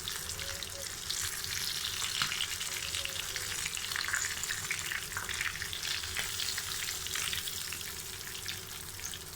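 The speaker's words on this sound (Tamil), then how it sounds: "இப்போது ஃபிஷ் வந்து 2 பக்கமுமே நல்லா பொரிஞ்சாச்சு" Fish frying in oil for a Chennai Marina Beach–style fish fry, a steady, dense crackling sizzle that holds at an even level for the whole stretch, with faint scraping, stirring touches and no talking.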